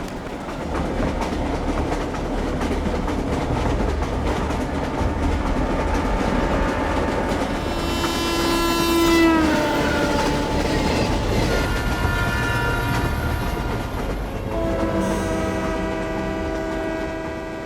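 A train rumbles along with steady clickety-clack, then sounds a loud, sustained horn blast as it nears a station, followed by wheel squeal and a second horn call; no talking.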